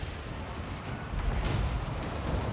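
Dense, continuous rumble of gunfire and battle din from a Total War: Warhammer 3 fight, steady and loud throughout with no clear separate shots standing out.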